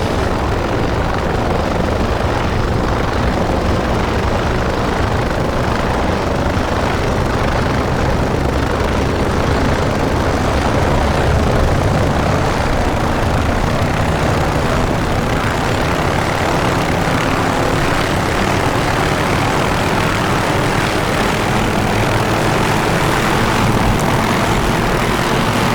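Steady, loud whine and rotor roar of an OH-6A helicopter spooling up in DCS, a dense continuous drone holding throughout with a faint low throb underneath.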